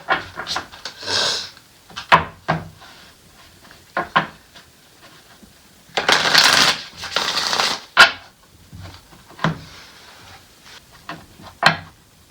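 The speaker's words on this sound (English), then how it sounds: "one more shuffle, and then we'll go ahead and deal out the cards" Repeated bursts of card shuffling, riffles and taps spread across the clip with a longer, louder shuffle in the middle; no talking.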